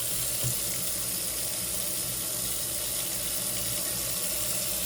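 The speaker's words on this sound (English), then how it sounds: "Then I'm going to drain the pressure and the water out of the lines" Water rushes continuously through household pipes as the lines are drained, a steady loud gushing flow like a tap running open, unchanging throughout.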